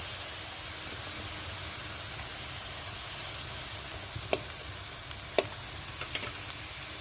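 Prawns and potato frying in spiced oil, a soft continuous sizzle at close range with a few sharp clinks of a spoon or pan near the end.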